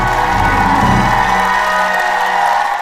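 Crowd cheering and applause at a church sermon, a loud sustained wash of clapping and shouting that swells early and holds steady throughout.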